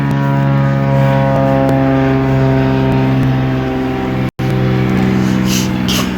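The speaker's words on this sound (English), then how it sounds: "There's another plane flying over you guys." Propeller airplane passing overhead, a loud, steady droning hum with strong low engine tones that shift slightly in pitch, broken by one brief dropout near the end.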